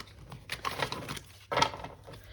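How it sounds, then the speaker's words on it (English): A deck of tarot cards being shuffled in quiet bursts of soft papery riffling and flicking, close by, with a short pause before a brisker final shuffle and no talk. "So as I begin to shuffle the cards, I'm just putting these back in the deck"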